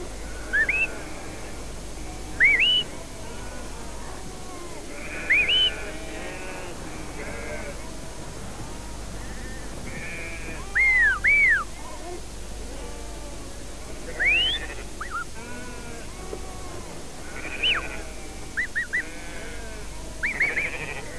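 Sheep bleat repeatedly across a flock being herded by a shepherd's dog and its master's whistles, several sharp calls rising over a steady outdoor rumble, some near and some farther off.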